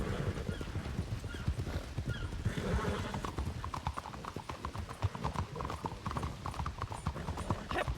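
Rhythmic clip-clop of horse hooves on a hard surface in a video game, steady and fairly close, with a short whinny early on; the horse is lame.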